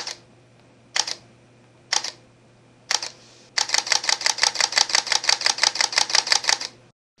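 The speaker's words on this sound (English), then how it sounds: "The shutter is quiet and smooth," A Panasonic GH3 compact system camera's shutter fires three separate close, crisp clicks at roughly one-second intervals, then a rapid burst of about twenty evenly spaced clicks before stopping.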